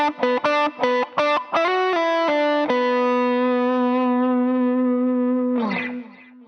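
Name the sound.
Fender Elite Stratocaster, middle and neck pickups in series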